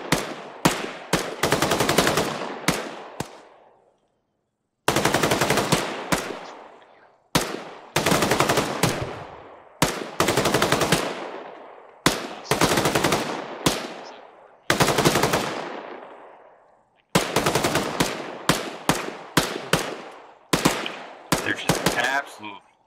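Machine gun fire in the military video game ArmA 3, loud rapid bursts of a few seconds each with echoing decay, repeating at intervals across the whole stretch.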